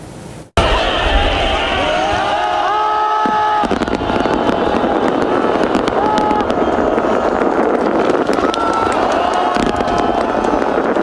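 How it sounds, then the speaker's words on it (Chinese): New Year fireworks burst over Kim Il Sung Square in Pyongyang, a dense continuous roar of crackling explosions and whistling rising shells mixed with a cheering crowd, loud and sustained after a brief quiet start. "平壤金日成广场民众庆祝新年以及观赏烟火的画面"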